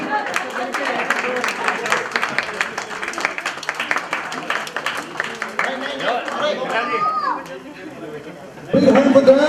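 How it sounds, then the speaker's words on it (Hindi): Lively applause and quick clapping from guests at a retirement party, with chatter mixed in. The clapping fades toward the end, then a loud voice cuts in over the room. "Give a big hand for them!"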